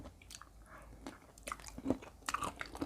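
Crisp, close bites and crunching chews of Korean soy-marinated seafood such as crab, shrimp, squid or scallop, in irregular soft clicks and snaps without speech.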